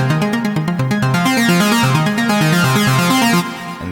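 A synthesizer sequence shaped by a pluck filter plays bright, rapid plucked notes in a bouncy repeating pattern, loud and upfront, with the higher layer dropping away near the end.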